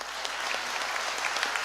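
An audience at a children's bhajan competition grand finale applauds a young tabla player, a brief burst of dense, steady clapping from many hands.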